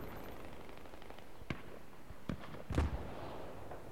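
Distant mortar blasts in a Battlefield video game, several sharp booms spaced a second or so apart over a low battle rumble, with a brief spoken word.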